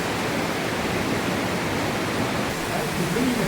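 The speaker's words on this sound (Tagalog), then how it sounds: "makikita na natin yung waterfalls dun" Water at the Aare Gorge waterfall pours in a steady, dense roar that fills the air evenly from start to finish without a break.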